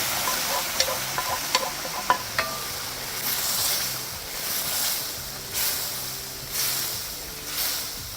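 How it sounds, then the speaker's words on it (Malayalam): Cooked dal lentils go into a frying pan for a North Indian dal fry and are stirred: a few light clinks at first, then soft, rhythmic scraping swishes over a gentle sizzle, with no talking. "ഇതിലേക്ക് നമ്മൾ വേവിച്ച് വച്ചിരിക്കുന്ന പരിപ്പ് ഇട്ട് കൊടുക്കാം."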